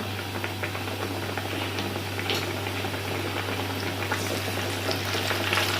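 Zinger burger pieces sizzle in hot oil in a kadhai over medium-low heat, giving a steady, even bubbling hiss that holds throughout with a low hum underneath and no talking.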